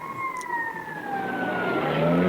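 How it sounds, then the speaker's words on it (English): A police patrol car siren wails in a steady, slowly falling tone as the car pulls up, growing louder toward the end with no talking. "a patrol car just pulled up"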